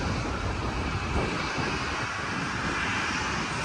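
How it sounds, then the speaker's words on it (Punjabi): Steady roar of an airplane engine near a seaside airport where planes come in from the sea to land, a loud broadband rumble that holds evenly throughout with no talk. "ਇਹ ਜਹਾਜ਼ ਜਿਹੜੇ ਇੱਥੋਂ ਉੱਥੋਂ ਆਉਂਦੇ ਆ ਸਮੁੰਦਰ ਵਾਲੀ ਸਾਈਡ ਤੋਂ ਤੇ ਇੱਥੇ ਫਿਰ ਲੈਂਡ ਹੁੰਦੇ ਆ"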